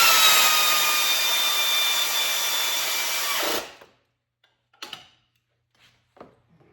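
A power tool runs steadily and loudly while tightening bolts during a Subaru engine install, whirring for about three and a half seconds before cutting off, followed by a few faint clanks of parts being handled.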